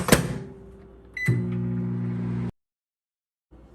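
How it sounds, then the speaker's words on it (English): A thud, then a microwave hums steadily for about a second before cutting off; a brief noise returns after a pause. "Microwave for 30 seconds."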